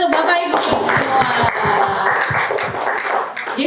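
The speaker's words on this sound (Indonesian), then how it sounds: "Tepuk tangan untuk Bapak Ibu semua." An audience of teachers at a school workshop applauds, a close, lively patter of many hands clapping with overlapping voices and cheers mixed in throughout.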